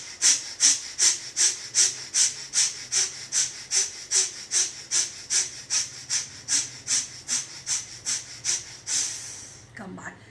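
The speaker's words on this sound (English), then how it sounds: "start doing the dynamic breathing. That is inhaling as well as exhaling with the same speed and same intensity." Rapid yoga dynamic breathing: about two dozen forceful, evenly spaced breaths, inhale and exhale at equal speed and intensity, hissing close to the mic in a steady rhythm before slowing and stopping.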